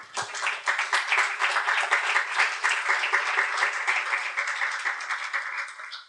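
A church congregation bursts into sustained applause in honour of Christ, dense, steady clapping from many hands filling the room for about six seconds without speech.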